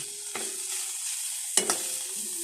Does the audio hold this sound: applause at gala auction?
no